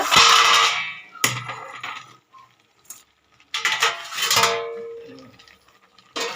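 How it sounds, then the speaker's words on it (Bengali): A lid is lifted off a cooking pot, gripped with tongs, producing short metallic clanks and scrapes between bursts of hissing steam and bubbling, loud at first, then quiet, then rising again. "এবারে আমি ঢাকাটা খুলে দেখবো কতটা সিদ্ধ হলো"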